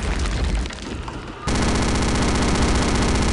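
Enemy gunfire in Return to Castle Wolfenstein: a loud, dense burst of rapid automatic shots begins partway through and continues without a break, following a rougher stretch of mixed game noise.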